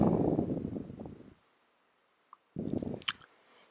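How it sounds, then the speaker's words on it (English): Sugar scrub mixed with coconut oil is stirred in a container: two close bursts of wet, gritty squishing separated by a short silent pause, with no voices. "And stir it a bit more."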